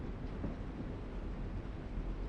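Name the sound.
train in The Walking Dead video game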